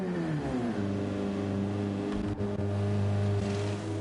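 Synthesized race car engines from the NES game IndyCar held at full throttle, a steady droning whine with layered harmonic tones that shift slightly in pitch, continuous and loud throughout with no talk.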